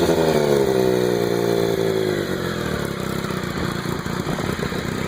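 A Triumph 955i three-cylinder motorcycle engine runs loud and close, a throaty revving note that settles from a higher rev down into a steady, rumbling idle.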